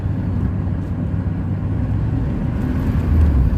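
A 1993 Chevy 4x4 pickup truck drives on an icy road in overdrive, its engine a steady low drone with road rumble, swelling slightly louder near the end.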